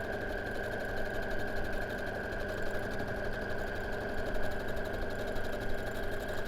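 A sewing machine hums in a steady, fast mechanical rhythm while stitching the final seam of a quilt block, running close and continuously throughout with no talk.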